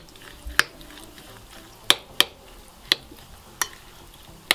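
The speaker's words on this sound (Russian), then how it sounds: "Хорошенечко все перемешиваем." A spoon stirring two eggs, salt and grainy mustard in a bowl, giving six sharp clinks against the side at uneven intervals over a quiet background, with no talking.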